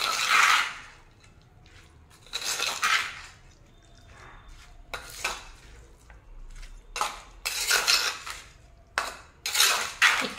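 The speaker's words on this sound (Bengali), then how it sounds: "আমি এখানে এই ছোট্ট খুন্তি দিয়ে নাড়িয়ে দিচ্ছি" Small metal spatula scraping and clattering against a pan while stirring raw chicken pieces for handi chicken, in repeated bursts of loud scrapes separated by quieter pauses, close up with no talk.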